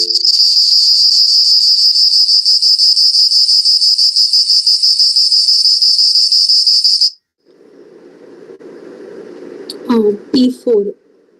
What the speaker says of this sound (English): The correct answer is it's a cicada